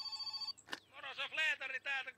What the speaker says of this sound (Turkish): Aha, telefon çaldı.